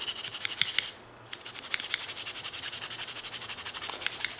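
A file rasps in rapid repeated strokes across surface rust on a Leatherman Wave multitool, with a brief pause before the close, gritty scraping resumes at a steady rhythm.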